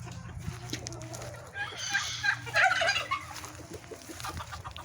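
Bourbon Red and Blue Slate turkeys gobble in a warbling burst against steady outdoor background noise, with other fowl faintly audible around them.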